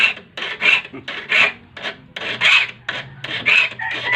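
A metal file rasps back and forth across the teeth of a wood hand saw, sharpening it in steady, rhythmic strokes, about eight passes, close and clear.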